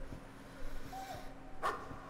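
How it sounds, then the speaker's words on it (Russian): A dog barking in the horror video game Layers of Fear, a few faint, distant yips and barks over a low hum of ambient game sound, with no voices over it. "А, псина гавкает."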